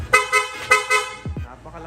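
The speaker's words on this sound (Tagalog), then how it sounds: "pa-activate naman ang loud horn sir" Loud aftermarket Piaa dual horn on a Honda ADV160 scooter blares in three short honks up close, followed by a brief low buzz.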